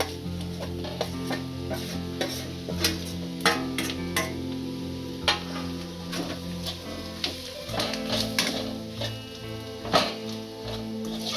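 Grated boiled potatoes stirred into a spiced turmeric and chili masala in a pan: repeated close scraping and tapping of a spoon against the pan, over a soft sizzle of frying, with no one talking.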